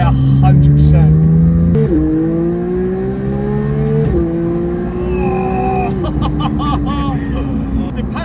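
Porsche 992 GT3 with a Milltek exhaust revving hard and loud, its engine note climbing through repeated sweeps with brief dips between gear changes, close by.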